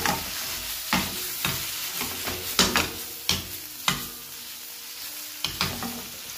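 A mixture fries in oil and soy sauce while a utensil scrapes and taps the pan at irregular intervals over a soft, steady sizzle, nearby and with no voices.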